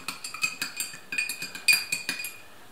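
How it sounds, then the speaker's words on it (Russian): A spoon stirs kissel mixture in a dish, clinking against the sides in quick rhythmic strokes, close and clear with no talk. "И размешиваем, и чтоб комочков не было."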